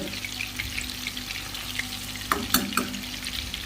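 Fish pakoras deep-frying in hot oil give a steady, close sizzle, with a few brief stirring clatters near the end.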